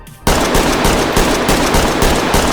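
Rapid automatic fire from an SA58 rifle in the video game Ready or Not, a loud, dense burst of evenly spaced shots fired close up with no pause, preceded by a brief quiet moment.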